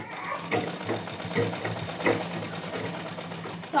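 Sewing machine stitching a belt onto a ghaghra skirt, running in a steady close whirring drone with small rhythmic stitch ticks throughout, a voice faintly present in the background.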